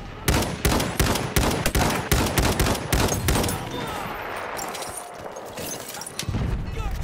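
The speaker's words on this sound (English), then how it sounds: "Enemy machine gun over there." Rapid bursts of machine gun fire in the Battlefield 1 video game, loud and close, a dense run of sharp shots that thins into a rumbling battlefield wash before firing picks up again at the end.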